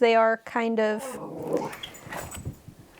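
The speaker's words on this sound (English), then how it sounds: "I'm going to apologize for the dogs growling in the background." Dogs growl low and rumbling in a home during spring while landscapers work outside, heard under and after a woman's speech, with a few yips and whimpers.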